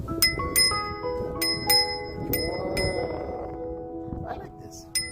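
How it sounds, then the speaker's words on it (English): A bicycle bell is rung again and again in a quick run of bright dings during a springtime bike ride, close by, with people talking between the rings. "You want to hear the bell?"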